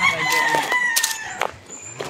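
A rooster crows nearby on a farm in Cagayan Valley, with other chickens clucking and calling in short bursts around it.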